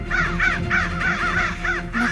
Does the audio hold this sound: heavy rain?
no